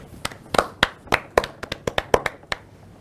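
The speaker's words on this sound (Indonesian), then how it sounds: "Sekali lagi kita beri aplaus untuk kita semua." A small audience claps briefly, a dozen or so sharp, scattered hand claps over a few seconds, close and fairly loud, with no talk over them.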